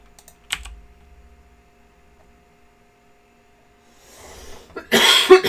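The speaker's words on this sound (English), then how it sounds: "Getting a cough." A person coughs once, a short, harsh burst near the end after a long near-silent stretch, with a brief tap or click at the start and a faint steady hum underneath.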